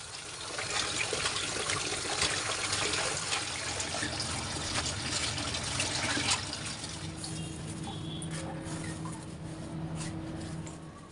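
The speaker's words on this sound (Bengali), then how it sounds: "পাতাগুলো আমি ডাটা থেকে আলাদা করে খুব ভালো করে ধুয়ে নেব" Running water from a tap pours steadily while pumpkin leaves are rinsed, a continuous close splashing gush that eases slightly toward the end.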